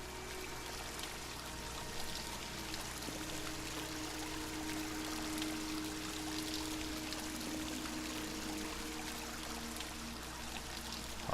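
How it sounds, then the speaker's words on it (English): Steady flowing water fills a cave in the video game Dear Esther, a continuous close wash of streaming and pouring with no voices. "A lot of cool water effects and just really neat, really nice looking environments here."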